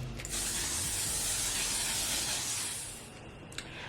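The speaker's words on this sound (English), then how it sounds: "Setting spray to make it last all day." Makeup setting spray hisses out in one long continuous burst from a close pump mist, lasting about three seconds before cutting off, followed by a faint click.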